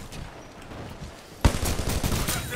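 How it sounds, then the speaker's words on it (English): Kraber sniper rifle fire in the video game Titanfall 2, a sudden loud report that kicks in midway through a quieter stretch, followed by a dense run of sharp gunfire and battle noise. "See Kraber fire coming in there"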